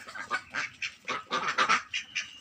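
Ducks quack repeatedly while eating corn, a string of loud, nasal calls in quick, uneven bursts close by, with no talking.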